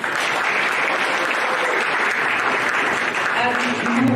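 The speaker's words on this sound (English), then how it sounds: "Please give them a round of applause." A conference audience breaks into steady, dense applause that fills the whole moment, loud and continuous, with a few voices mixed faintly into the clapping.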